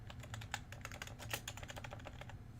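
A computer keyboard clatters with steady, rapid typing, close and fairly quiet, the keystrokes forming a continuous irregular patter with a few sharper taps and a low background hum.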